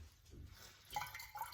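A bag of cold brew coffee grounds drips onto a plate, giving a few faint, soft drops and light liquid patters over a quiet background.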